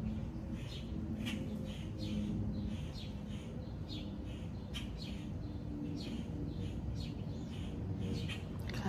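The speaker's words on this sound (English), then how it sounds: "I can hear all the birds." Faint birds chirping and calling outdoors over a steady low ambient hum, with scattered short calls throughout.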